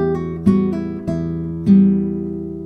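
Classical guitar playing the opening two bars of Sagreras study No. 82, clear plucked notes and sustained chords struck in a slow, even rhythm, close and solo.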